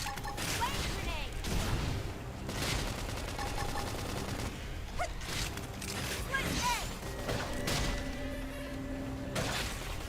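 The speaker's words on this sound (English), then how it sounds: "Flame grenade." A flame grenade goes off in the video game Xenoblade Chronicles X, with repeated blasts and crackling bursts spread across dense, busy combat sound effects and music, while a person talks intermittently over the action.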